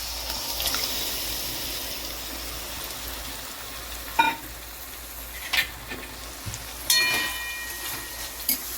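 Marinated chicken sizzles with softened tomatoes in a pan for a bhuna chicken masala, giving a quiet, steady frying hiss broken by a few sharp clinks and scrapes of stirring.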